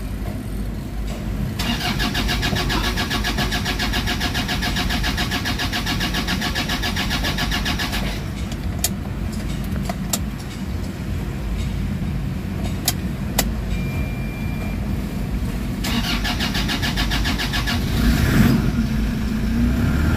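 A Toyota Fortuner engine cranks and catches, then settles into a steady idle that runs close and loud throughout, with a few brief clicks partway through and no talking.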